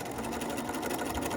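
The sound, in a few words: sewing machine back-stitching a patch pocket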